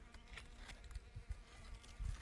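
Bee buzzing around yellow watermelon flowers in a melon patch outdoors, a faint intermittent droning hum that comes and goes in short bursts, with light bumps and rustles.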